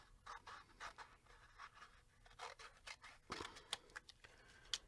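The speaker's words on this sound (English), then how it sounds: "I'm just gonna take some scissors and cut it in half." Scissors snip through paper in a run of short, close crisp cuts with brief pauses, quiet and alone.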